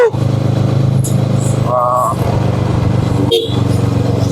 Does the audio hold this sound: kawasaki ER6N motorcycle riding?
yes